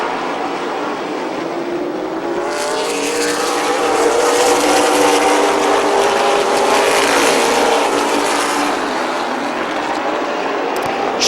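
Race cars roar around the track at Midvale Speedway, a loud, sustained blend of engines at close range, with a rising pass of several cars building in the middle of the stretch.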